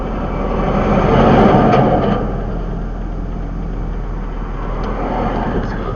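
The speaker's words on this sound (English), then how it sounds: "the flow of traffic it just picked up" Street traffic on Ditmas Avenue heard during a road test, cars passing with a rising engine whoosh that swells early and then settles into a steady rumble of idling and moving vehicles.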